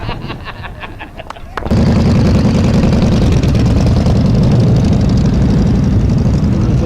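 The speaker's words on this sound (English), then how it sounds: "Gentlemen, start your engines." Motorcycle engines for a group ride sendoff in Franklin County rumble into life together, then hold a loud, dense, continuous roar of many idling and revving bikes close by, after a brief spoken call.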